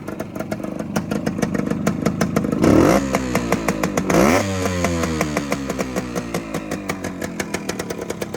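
A 1972 Suzuki TS185 two-stroke motorcycle engine, freshly rebuilt top end, idles with a rapid popping rhythm, then revs sharply twice before settling back to a steady idle.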